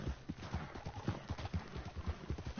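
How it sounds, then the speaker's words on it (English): Horse hooves clip-clop steadily in the video game Red Dead Redemption 2, a continuous, fairly close rhythm of hoof falls with no clear talk over it. "I actually need to get this horse something to drink real quick"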